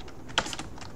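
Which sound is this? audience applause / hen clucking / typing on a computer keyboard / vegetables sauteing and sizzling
typing on a computer keyboard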